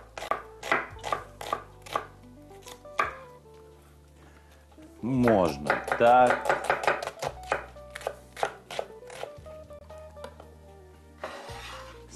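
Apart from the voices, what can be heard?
knife chopping onion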